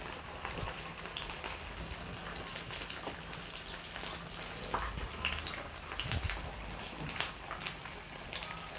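Crispy pork belly deep-fries in hot oil with a dense, steady crackle like rain on a surface, with occasional louder pops.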